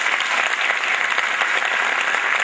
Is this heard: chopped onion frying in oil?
no